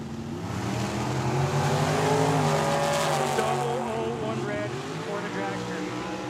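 A dragster makes a drag racing run at Tucson Dragway: a loud, steady engine roar holds throughout with a shifting pitch, and a track announcer talks over it.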